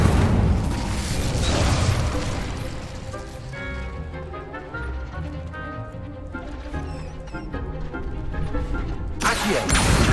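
The Incendio fire spell in Hogwarts Legacy erupts in loud, roaring bursts at the start and again at the end, with quieter game music and combat sounds in between.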